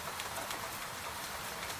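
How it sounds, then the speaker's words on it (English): Steady soft rain falling on the Vltava river at night in Prague, a continuous even hiss of drops on water, gentle and unbroken throughout. "The river is not bright tonight. It is a long, dark ribbon, softly broken by raindrops."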